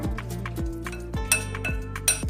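Metal spoon clinks and scrapes rhythmically against a bowl while paneer marinade is mixed, a steady series of close, sharp taps roughly every half second.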